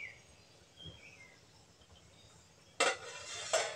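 A lid lowered onto a cooking pot of lentils with jackfruit seeds, two sharp metallic clanks near the end after a quiet stretch of faint kitchen ambience.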